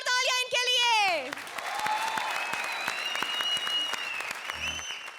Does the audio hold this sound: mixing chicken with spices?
no